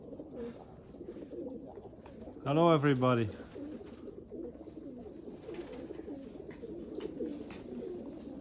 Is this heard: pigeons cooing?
yes